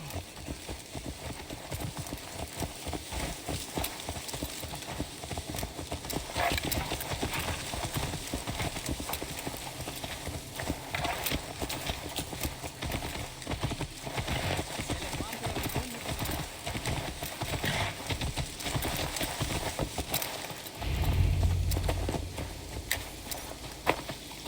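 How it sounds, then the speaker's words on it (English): Horse hooves clip-clop steadily in the Viking-era video game Assassin's Creed Valhalla, a continuous rhythmic walking gait heard throughout under game speech, with a brief whinny near the end. "Let's return the horse"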